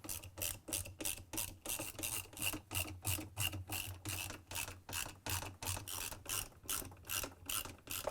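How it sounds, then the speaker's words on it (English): A 10 mm socket wrench ratchets screws tight on the lower balance weight of an LG/Kenmore washer drum, a steady run of rapid, evenly spaced clicking strokes close up with no talking. "Put in the 4 screws manually and tighten them with a 10 mm socket wrench."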